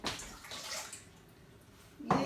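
Warm water, half hot and half cold, poured into a bowl holding about 10 grams of yeast, a soft splashing trickle that fades, followed by a louder burst of pouring near the end.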